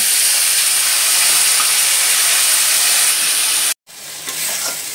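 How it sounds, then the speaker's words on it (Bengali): Ground onion paste hits hot oil in a frying pan where fish was just fried, giving a loud, steady close-up sizzle and hiss that breaks off for a moment near the end before resuming. "এখন বেটে রাখা পেঁয়াজ বাটাটা দিয়ে দিলাম।"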